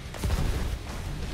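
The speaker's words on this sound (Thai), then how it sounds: "เสียงจรวด" Rocket fire in War Thunder during a Challenger 2 tank battle, a short boomy burst with rumbling low end lasting about a second, close and fairly loud.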